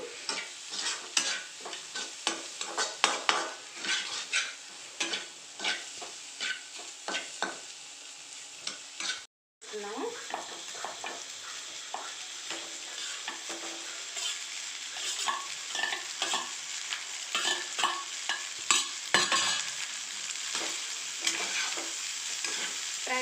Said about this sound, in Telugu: రైస్ వేసిన తర్వాత బాగా ఇది కిందికి పైకి బాగా కలుపుకోవాలి